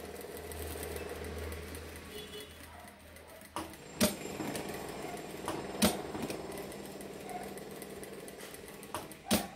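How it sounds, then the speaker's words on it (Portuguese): A sewing machine stitches a fabric tab for a small charger-and-earphone holder, its steady mechanical hum running low throughout, broken by a few sharp clicks and thumps as the fabric is handled. "E vamos costurar aqui a lapelinha. Bem em cima da marcação."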